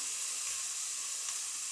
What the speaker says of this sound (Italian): lo sfrigolio è come quello che farebbe se fosse olio